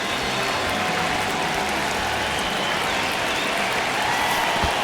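A stadium crowd cheering and clapping in the MLB The Show 26 baseball video game, a dense, constant roar of applause that holds steady throughout, with no commentary over it.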